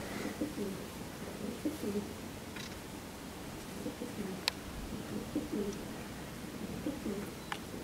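Pigeons coo softly in a loft, low repeated murmuring calls spread across the clip, faint and fairly distant, with occasional sharp clicks and a dull room hiss.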